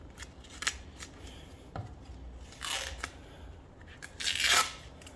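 Old tape being peeled off a hockey stick blade: scattered sharp clicks and snips, then two longer, louder ripping pulls close by, with no one talking.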